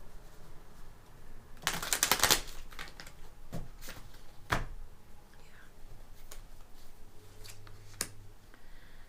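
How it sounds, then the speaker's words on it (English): A brief burst of riffling tarot cards, followed by scattered soft clicks and taps, fairly close with faint room noise throughout. "One more shuffle, I think."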